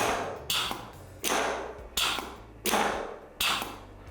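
A pneumatic circuit with a logic valve actuates on a signal from its left valve, giving five evenly spaced hissing air bursts, each with a sharp click at the start and fading away before the next.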